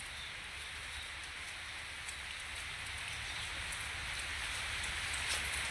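Steady rain falls outdoors near a cattle shed, a continuous broadband patter that holds at an even level throughout with scattered drop hits and no talk.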